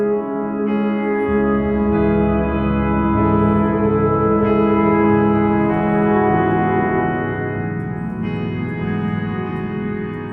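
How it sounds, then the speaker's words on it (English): Sustained tonal drone from the Ethera Gold sound library, time-stretched and washed in reverb and echoing delay, layered notes shifting and smearing into one another, loud and continuous with no voices. "I can time stretch the sound, a little bit of reverb, delay"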